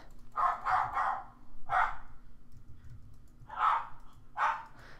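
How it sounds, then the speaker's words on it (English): Indoor dogs bark in short bursts, a quick cluster of three followed by scattered single barks. They sound moderately close, with faint clicking and a low hum in the background. "my dogs are continuing to lose it. I'm sure that you can hear that"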